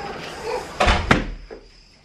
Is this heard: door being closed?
yes